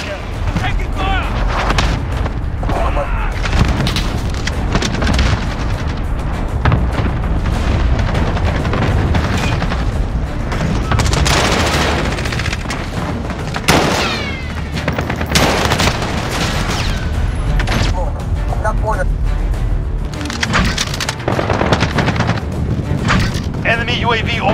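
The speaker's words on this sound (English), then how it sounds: "Allied cluster strike incoming." Cluster strike explosions in Call of Duty Modern Warfare, a dense run of booming blasts and rolling artillery-like detonations mixed with gunfire, loud and continuous across the battle, with game voice callouts over it.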